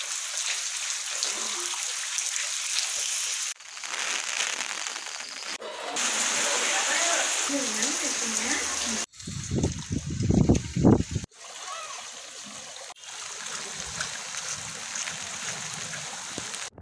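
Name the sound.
incessant rain with overflowing streams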